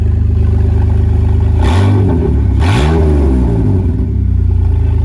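BMW race car engine with its exhaust removed, idling loudly and close, then blipped twice in quick revs that rise and fall before settling back to a steady idle.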